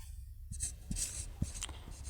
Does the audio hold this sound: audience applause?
no